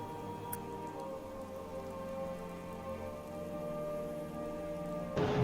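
Steady rain falls continuously at an even, moderate level, a constant wash of pattering drops that swells slightly near the end, with a faint tonal hum underneath.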